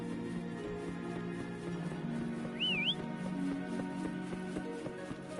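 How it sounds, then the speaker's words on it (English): A single short, rising-and-falling whistle sounds in Wuthering Waves, quiet over a low, steady ambient game background. "Try whistling."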